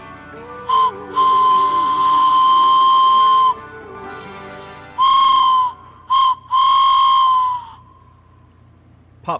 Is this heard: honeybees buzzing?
no